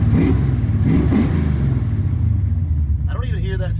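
A Foxbody car engine idling up with a deep, steady rumble close by that holds loud throughout, and a voice briefly speaking over it near the end.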